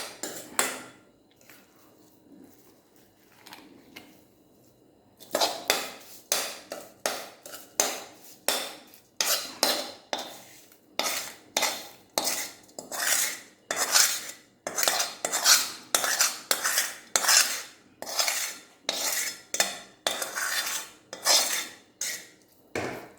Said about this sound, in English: I'll put some lemon pieces here and mix it.